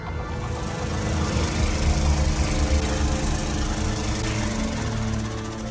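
An electric lawnmower runs in a horror video game, giving a steady, buzzing mechanical drone that swells slightly midway and holds at a fairly loud level with no voices.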